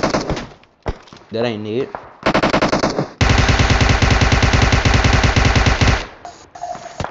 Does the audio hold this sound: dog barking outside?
no